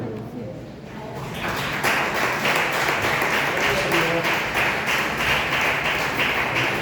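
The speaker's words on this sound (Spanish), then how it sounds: "bríndale un aplauso, Señor" Congregation applauding in a church service, a steady dense wash of clapping that swells in and holds loud and continuous.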